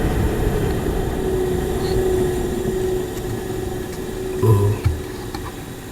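A 400 CFM kitchen range hood motor drones in a steady, close hum, then a switch clunk and a brief bump near the end as it starts to wind down; one short exclamation is voiced.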